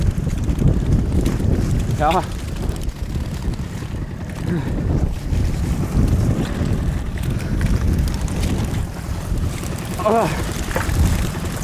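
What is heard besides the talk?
strong wind on a fishing boat at sea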